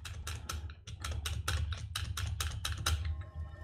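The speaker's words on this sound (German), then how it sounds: "da wird aber die Tastatur auch vergewaltigt" Hard, fast typing on a computer keyboard, close and loud, a dense run of sharp key strikes in uneven bursts with a low hum beneath.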